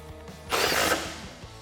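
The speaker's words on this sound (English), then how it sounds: "Grab your 13mm socket and tighten it down." A 13mm socket ratchet tightens running board bracket bolts on a Jeep Wrangler JL 2-door, giving a short close burst of rapid clicking between quieter moments.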